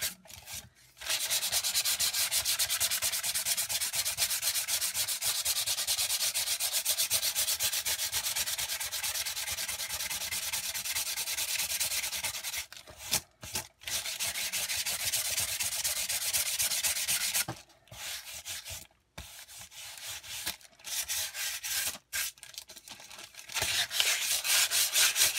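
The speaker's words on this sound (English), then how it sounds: "Not needing a hard sanding, just a light sanding will do." Sandpaper lightly rubs steadily back and forth against a composition notebook cover, a close, continuous scratchy hiss broken by a few brief pauses.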